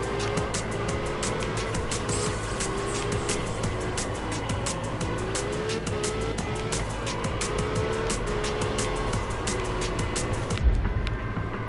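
Car drifting in the video game Absolute Drift, a steady engine drone with rising and falling revs and tire squeal running continuously throughout, fairly loud, with no talking.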